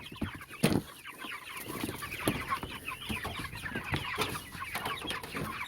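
Meat chickens cluck in a scattered, overlapping chorus close by, with a few louder calls standing out and a faint steady hiss behind them.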